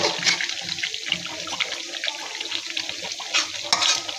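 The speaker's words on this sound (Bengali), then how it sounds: "তো ভালো করে আমি কষিয়ে নিব মাংসটাকে" Chicken for korma is stirred and fried in a pan, with a close, continuous sizzle under repeated scraping strokes of a spoon against the pan.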